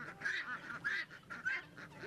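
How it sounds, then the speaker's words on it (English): Guinea hens call in a series of harsh, rhythmic, honking cries, about six pulses in quick succession, moderately close and fairly quiet, with no talk. "These are guinea hens."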